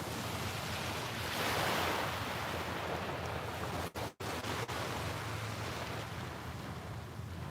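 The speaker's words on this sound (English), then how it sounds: "The water sounds lovely today." Steady rushing surf washes continuously, broad and close, with a few brief dropouts midway; no speech.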